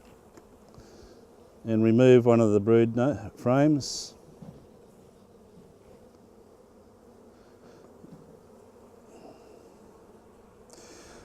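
Honeybees hum in an opened hive being smoked during a sugar-shake check for external parasites. A low, steady buzz runs quietly throughout, with someone speaking briefly over it near the start.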